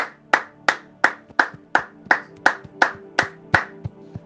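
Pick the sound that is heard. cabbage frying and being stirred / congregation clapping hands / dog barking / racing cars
congregation clapping hands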